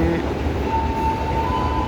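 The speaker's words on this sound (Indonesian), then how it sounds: "Lokonya menggunakan CC201." A CC201 locomotive passes on rails, a steady rumbling roar with a rising whine tone, continuous and fairly loud throughout.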